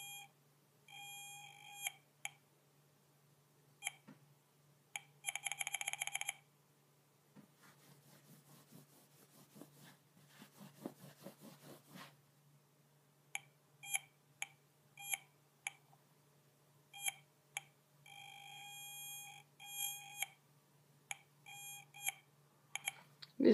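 A homemade static electricity detector built from a J310 JFET and a 555 timer gives sharp, clear electronic beeps, some single and some in short dense bursts, scattered irregularly over a faint hum with brief rubbing noise in between.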